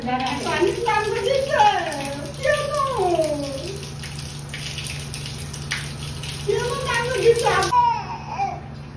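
Water splashing and running during a four-month-old baby boy's bath, a steady wet wash under a baby's rising cries and an adult's voice.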